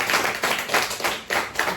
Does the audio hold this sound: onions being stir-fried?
no